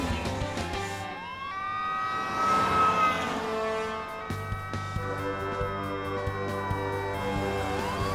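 Emergency vehicle siren in the video game Stadens Hjältar 2, loud wailing tones sweeping up and down over several seconds, with layered siren pitches and a brief burst of commotion, no talking.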